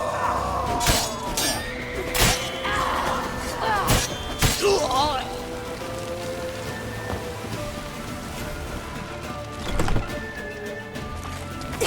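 Horse hooves clip-clop through The Witcher III: Wild Hunt amid sharp crashes and impacts, loud and busy, with a steadier rain-like wash of game ambience underneath.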